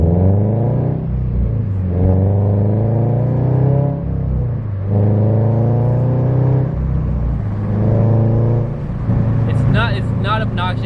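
A 2022 Subaru BRZ engine with unequal length headers and a new front pipe revs up and down in repeated waves with a deep, throaty exhaust note, ending in a few crackling pops.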